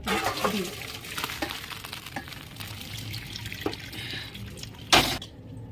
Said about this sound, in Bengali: দেখুন বন্ধুরা এবারে জলটা সেঁকে নেব